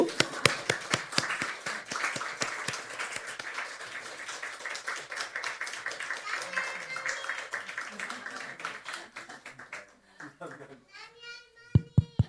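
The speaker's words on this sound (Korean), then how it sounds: "여기 도착할 때까지 박수." Church congregation applauding with sustained clapping that fills the room, a few sharper claps standing out, fading near the end as a voice speaks over the last moments.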